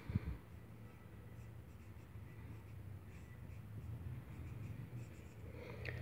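Pen or pencil scratching across a paper worksheet during a first-grade math lesson on bar graphs, a soft steady scraping close to the microphone with no talking.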